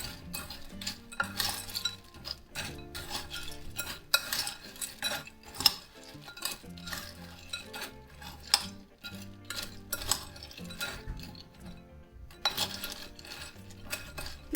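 Spicy butter rava bites mixture being stirred in a pan, with steady scraping and clinking of a spoon against the vessel in irregular strokes, fairly close and moderately loud, with no talking.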